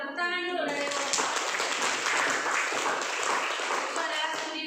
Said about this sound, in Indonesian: itu adalah tepuk tangan dulu dari kelompok